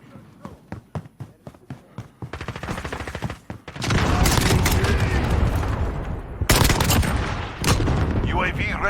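Rapid SKS rifle shots in the Call of Duty Modern Warfare game, starting as spaced single cracks and building into dense, loud bursts of gunfire with game noise around them.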